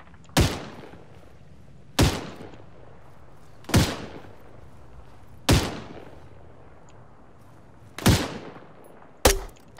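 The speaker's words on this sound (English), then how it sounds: "Alright, taking shots now." Five or six evenly spaced single rifle shots from ArmA 3, each a sharp loud crack with a decaying tail, fired roughly every two seconds with no talking between them.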